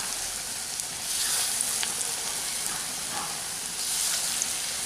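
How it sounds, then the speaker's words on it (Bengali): Matar dal pakoras frying in hot oil, a steady close sizzle and crackle with a few brief pops, continuous and even from start to finish with no talking. "বাদবাকি বড়াগুলোকেও একই রকমভাবে ভেজে নিচ্ছি।"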